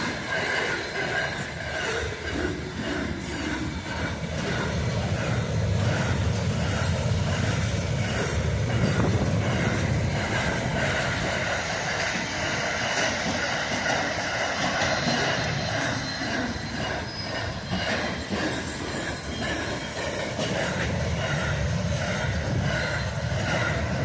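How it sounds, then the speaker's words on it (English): A freight train passes close by, a sustained loud rumbling roar of rolling wagons with rhythmic wheel clatter and occasional squealing metal, steady throughout with no talk. "I got my freight train."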